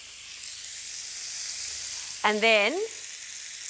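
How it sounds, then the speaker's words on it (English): Squid sizzles on a hot grill, a steady bright hiss running throughout, with a short spoken phrase briefly over it near the end. "Nice sizzle is what we're looking for."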